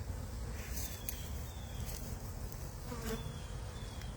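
Honey bees buzz faintly and steadily around a hive, a soft continuous drone with occasional closer passes.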